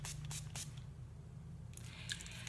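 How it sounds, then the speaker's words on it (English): A NYX Matte Finish setting spray misted in a few quick, close hisses near the start, over a steady low background hum. "I'm gonna set my face with the NYX Matte Finish Spray"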